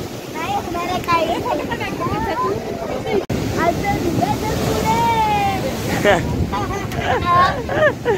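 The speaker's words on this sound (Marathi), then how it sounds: "आणि खूप लाटा येतात." Sea waves surging and breaking on Karde beach at Dapoli, a steady loud wash of surf and wind buffeting the microphone, with people talking over it throughout.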